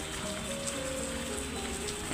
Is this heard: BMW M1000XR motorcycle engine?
no